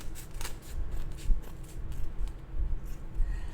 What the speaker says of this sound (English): I'm cutting off the excess that I do not need by trimming around the edge of the foam